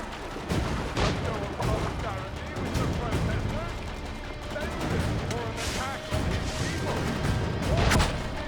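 Gunfire and chaotic combat noise in Assassin's Creed 3 Remastered, with repeated sharp shots and crashes over a dense, continuous bed of battle sound, loud throughout, with a voice talking faintly underneath.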